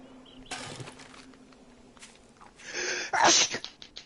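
A sneeze erupts amid scattered rustling and shuffling noises, with a loud burst followed by a few short trailing sounds.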